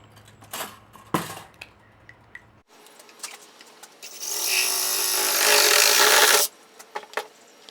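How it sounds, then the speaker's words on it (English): A Sawzall reciprocating saw cuts through material in one loud, harsh buzzing burst lasting a few seconds, preceded by scattered knocks and handling clatter, with no talk. "cut out 2 of them using a Sawzall"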